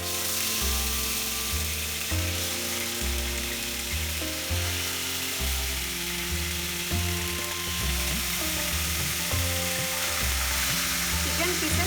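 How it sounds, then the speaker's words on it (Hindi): Chicken pieces fry in vegetable oil in a pan, giving a steady, close sizzle that continues for the whole stretch under background music. "अभी मैं चिकन पीसेस फ्राई करूँगी, लेकिन मसाला का साथ नहीं"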